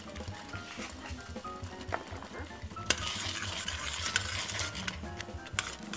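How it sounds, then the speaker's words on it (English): A spoon stirs orange cranberry sauce with cinnamon and cardamom in a pot, giving continuous close scraping and soft bubbling with occasional sharp clinks against the metal. "You want to stir this real well"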